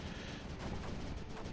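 Mortar and cannon fire in a video game campaign, a continuous dense roar of booming blasts with no clear gaps, loud and close throughout.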